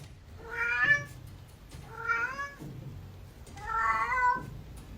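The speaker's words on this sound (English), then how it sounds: "the cat is hanging around near the closet, looking upwards and yowling" A cat yowls near a closet at night, giving three drawn-out, rising-and-falling cries spaced about a second and a half apart, fairly close and clear with no talking.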